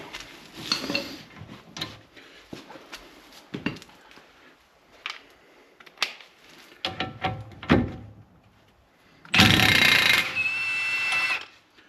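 On a 2017 Chrysler 300S, an impact wrench fires a loud, dense burst of rattling hammering on the wheel's lug nuts for a couple of seconds, after scattered metallic clanks and tool handling.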